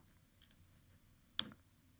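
A sharp snip as wire cutters trim the tail of a bracelet wire on a Swarovski crystal bracelet with cushion stones and settings. One loud close clip stands out after two faint clicks, with quiet around it.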